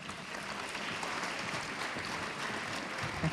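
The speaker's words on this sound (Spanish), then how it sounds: "Un aplauso para el colegio." Applause for a school at a Chilean student deliberation gathering in Valparaíso, a dense, steady wash of clapping throughout with no voices on top.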